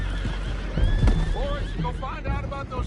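Horses whinny and neigh in Red Dead Redemption 2 after a gang ambush, several rising calls with hoof clip-clop underneath, mid-distance, mixed with game sound and voices.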